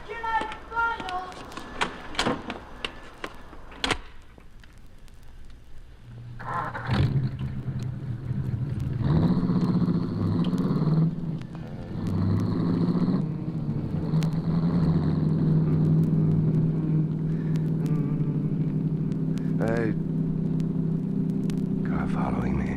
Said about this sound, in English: Car following me.